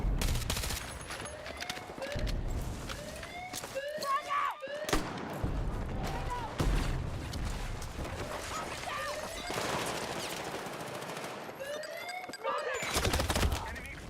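The Quad vehicle in Battlefield 6 fires in sustained bursts of rapid, dense gunfire. Short gaps break up the bursts, and other battlefield crashes come and go through the fourteen seconds.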